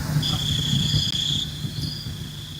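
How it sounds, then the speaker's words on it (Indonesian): Steady high-pitched chirping of crickets runs continuously throughout, a bright sustained trill over a low background hum with no speech. "Ini yang suara jangkrik di mana ya"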